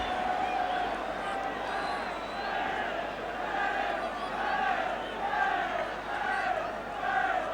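A crowd of about 20,000 at a 1980 Wales versus Czechoslovakia football match fills the stadium with a steady, rolling roar and swelling chants, while a commentator talks over it.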